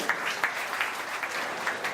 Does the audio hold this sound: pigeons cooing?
no